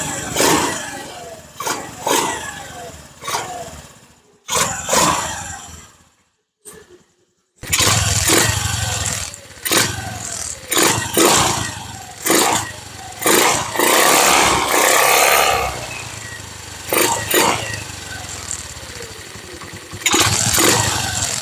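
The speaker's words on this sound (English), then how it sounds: "I'm gonna turn it off and give it some throttle, see if the mic will pick up the sound." Honda Navi small motorcycle engine fitted with a Polini air filter, revving in repeated sharp throttle blips close by, with a short silent gap partway through before the revving resumes.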